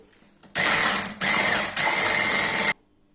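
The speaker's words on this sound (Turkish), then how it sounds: "Bu şekilde ilave ettikten sonra bir miktar çırpacağım." An electric mixer whisks cake batter with yogurt, its motor whirring loudly and steadily in three close bursts separated by brief dips, with no talking.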